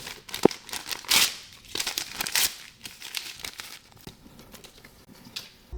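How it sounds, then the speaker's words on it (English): Paper pages of a book being ripped and crumpled by hand, close and crisp, with irregular bursts of tearing and crinkling that fade toward the end. "this book, this is how easy it would take for someone to tear it apart"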